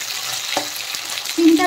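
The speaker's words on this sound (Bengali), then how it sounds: "সিমটা ভাজা হতে থাক" Flat bean pods frying in a pan, a close, steady crackle and sizzle with a few light stirring knocks and a short metallic ring near the end.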